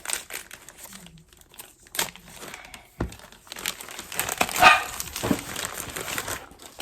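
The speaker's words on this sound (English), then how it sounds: "This thing is really packaged well. I'm trying not to look as I open it." A well-packaged book parcel is opened, with loud crinkling and tearing of paper and plastic wrapping in uneven bursts, and a sharp knock partway through.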